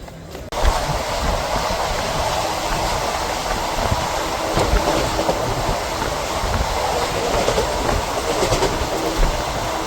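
A late-running express passenger train on the way to Puri, heard from inside a coach, rumbles and rattles steadily with rhythmic wheel clatter over the rails throughout.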